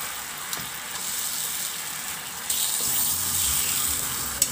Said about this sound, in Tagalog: Pagkakulo, ibalik na natin yung pork chop.